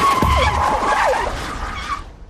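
A BMW 535d runs flat out down a runway, its loud engine and tire noise sweeping close past with rising and falling whines before fading off at the end.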